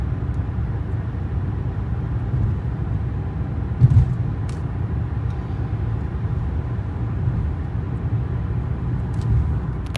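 A 2020 Jeep Compass Trailhawk with its 2.4 liter, 180 horsepower engine driving along, a steady low cabin drone of engine and road noise with one brief thump midway and no talk.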